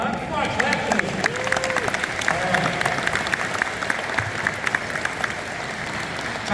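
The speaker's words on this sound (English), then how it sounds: "Come on, clap for me." Audience applause at a school spring band concert, a dense, steady patter of many hands clapping in a hall, with voices and cheers mixed in.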